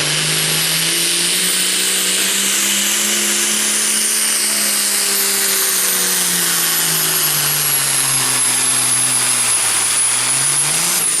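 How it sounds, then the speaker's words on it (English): A pulling tractor roars down the track at a night tractor pull, a loud, sustained engine howl with shifting pitch, continuous and overwhelming throughout. "There's the fuel, dump the clutch, and we're out of here."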